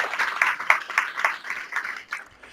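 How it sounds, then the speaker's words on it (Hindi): Loud congregational clapping in a church service, offered in praise of Jesus: a short burst of rhythmic, fairly close applause that fades out within a few seconds. "खुदा यीशु के लिए जोरदार तालियां."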